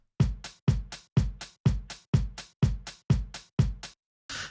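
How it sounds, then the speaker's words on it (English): A sampled drum loop with its low end rolled off by a high-pass filter near 200 Hz and a low-mid scoop, playing eight even, punchy hits in a steady rhythm, loud and alone, ending with a short noisy burst. "this is just some random drum loop sample that I grabbed from FL somewhere"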